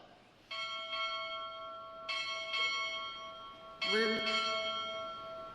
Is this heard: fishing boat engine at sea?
no